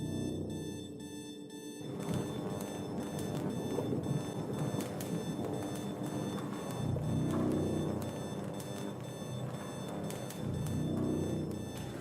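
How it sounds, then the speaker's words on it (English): A radiation alarm in the video game Anoxia Station sounds as a repeating electronic warning tone, pulsing in a steady cycle over a low rumbling game ambience, with no speech. "This alarm here doesn't sound too good. The radiation level seems to get too high."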